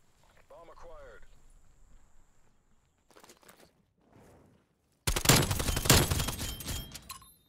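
Shotgun fire in a Search and Destroy video game match, a sudden loud blast with a rattling tail after quieter footsteps and game sounds, with a player talking.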